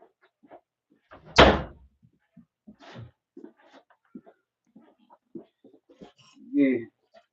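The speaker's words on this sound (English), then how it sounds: "Let me close this door, man, because these people are loud." A door closes with one sharp, fairly loud thud in a quiet room, followed by scattered soft talking and small indoor noises.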